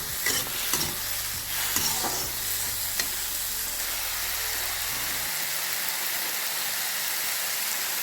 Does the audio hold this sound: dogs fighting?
no